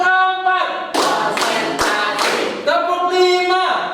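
A group of workshop participants clapping on cue in a classroom session, four distinct bursts of claps in quick succession between stretches of a leader's voice, close and fairly loud.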